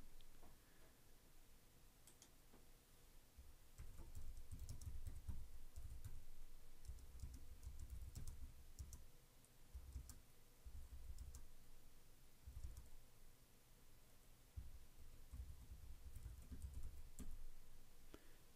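A computer keyboard clatters under quick bursts of typing as a blog post is written, the soft clicks arriving in uneven clusters with short pauses between them, faint and close.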